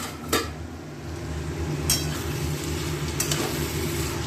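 A spoon scrapes and clinks against a pot while a vegetarian dish is stirred over a gas flame, three sharp metallic knocks standing out over a steady low sizzle, close and alone.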